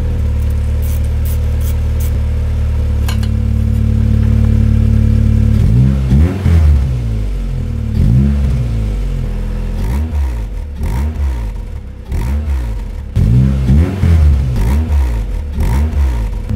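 A loud, raw Honda Civic EK4 VTEC engine idles and then revs repeatedly in rough bursts, harsh and unmuffled with the exhaust silencer removed, close by.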